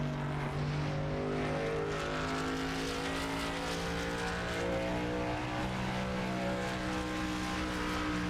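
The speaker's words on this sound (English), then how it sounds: "Nathan Cardinal, he starts his first hot lap here this evening" A racing truck from a truck series tears through an evening hot lap, its engine a sustained, loud droning roar with steady harmonic tones throughout and no speech.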